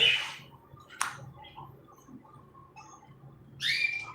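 Caged birds give a few sharp, brief chirps and whistles, spaced apart with quiet gaps between them, the last call a bit longer and brighter, heard indoors at moderate distance.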